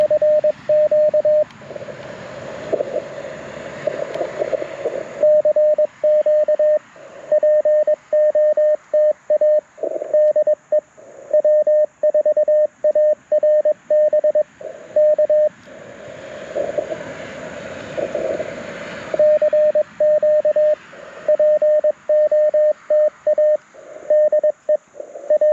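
A clear Morse code CW sidetone plays from a Mountain Topper MTR4B V2 QRP radio: one loud steady pitch keyed in rapid dots and dashes, strong and alone over a faint hiss, with no voices.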